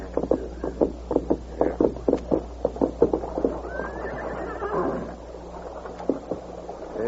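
A horse neighs and its hooves clip-clop in a radio-drama sound effect, a string of sharp, close hoof beats leading into a long, loud whinny, then a few more steps.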